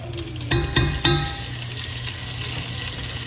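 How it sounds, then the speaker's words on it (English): Garlic sautéing in butter in a pan for a home-cooked dinner, giving a close, steady sizzle. A few sharp utensil clinks come near the start, then the frying hiss carries on alone. "I'm gonna put a little garlic in there and saute the garlic a little bit"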